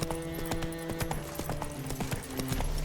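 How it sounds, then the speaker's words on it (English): Hooves of the horse Roach clip-clop at a steady galloping rhythm in a video game, close and prominent over a musical score, with a brief whinny. "Run, Roach"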